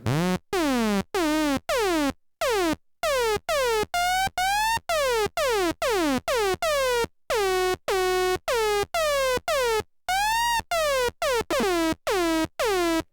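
Repeated short Behringer Neutron synthesizer notes with squelchy sweeping pitch from second-oscillator modulation, each one bending down or up, played in a fast steady sequence with brief gaps.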